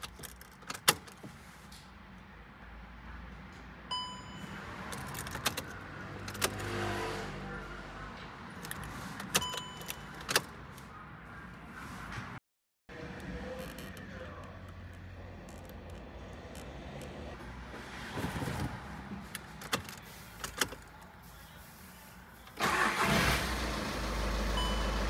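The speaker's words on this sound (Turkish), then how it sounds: "Birkaç kez kontağı aç kapa yapacağız." A VW Golf 6's ignition is switched on and off several times, giving scattered clicks, short electronic chimes and brief whirs inside a quiet car cabin, with one short moment of total silence midway.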